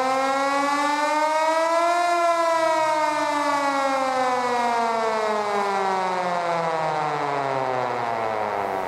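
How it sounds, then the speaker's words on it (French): A loud mechanical mine shift siren at the Aumetz iron mine museum winds up to a steady wail, then slowly falls in pitch as it winds down, sounding alone and sustained throughout. "cette sirène là, elle sonnait pour la prise de poste des mineurs"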